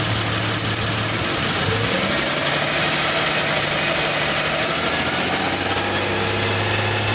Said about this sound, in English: And once again, we're going to try to hit the whining noise.